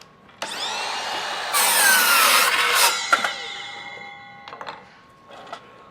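A Ryobi 18V cordless miter saw spins up and cuts through a wooden 2x4, with a rising whine, a loud rasping bite through the wood, then the blade winding down amid a few clunks and knocks.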